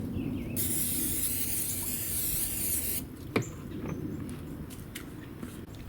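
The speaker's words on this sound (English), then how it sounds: "I just want to hit it with a little spray." A continuous three-second hiss of a spray bottle close by over a tangerine chicken on a rotisserie grill, then quieter handling noises and a soft knock.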